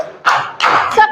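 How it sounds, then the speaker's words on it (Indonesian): Students in a classroom clap their hands in a few short, loud bursts close by, with brief gaps between them. "Silakan tepuk tangan."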